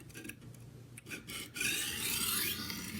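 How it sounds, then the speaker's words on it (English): A junk kitchen knife drawn across a coarse 220 grit sharpening stone, close gritty rasping strokes, a few short ones then a longer sustained scrape. "And as you can hear, this is a very coarse stone."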